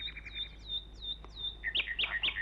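Nightingales singing in the treetops: repeated bright chirping phrases, with sweeping whistled notes first, then a louder, closer burst of quick trills over a low steady hum.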